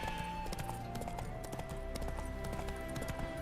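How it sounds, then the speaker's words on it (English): Roach, Geralt's horse in The Witcher 3, trotting with a quick, even clip-clop under a constant loud ambient and music bed, hoofbeats fairly close and continuous. "Spooking my horse."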